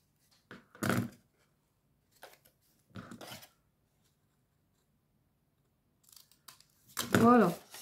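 Scissors snip through paper in a few short bursts while making a small craft box, with pauses between cuts and a brief voice near the end.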